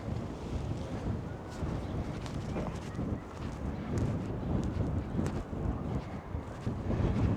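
Steady wind buffeting the microphone, a continuous low roar with gusty fluctuations, near a jetty on the coast at Saint-Nazaire, France.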